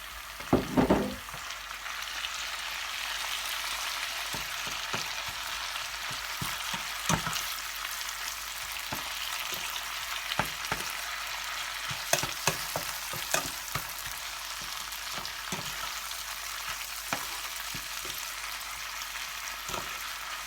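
Holy basil leaves stir-fry with garlic in a hot pan, giving a continuous hissing sizzle with scattered scraping knocks from a stirring utensil and a louder clatter at the start.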